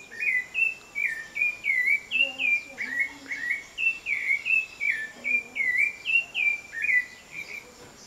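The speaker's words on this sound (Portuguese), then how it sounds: "Bela, sabiá. Sabiá da laranjeira, tá vendo?" A rufous-bellied thrush sings a steady run of clear, fluting whistled phrases, repeated every half second or so, fairly close and alone against a faint background hiss.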